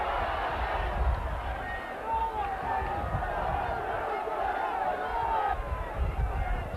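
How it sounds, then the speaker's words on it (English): Stadium crowd at a Wakefield versus Wigan rugby league cup tie, a steady roar of cheering and shouting urging the home side on, continuous and fairly loud with no clear breaks, swelling slightly in places. "The Wakefield crowd now really exerting their side on."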